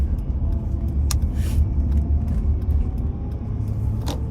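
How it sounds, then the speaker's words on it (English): A van rolls along the road with a deep, steady engine and road rumble from inside the cabin, plus a few brief rattles and clicks. "in this van that I'm driving right now"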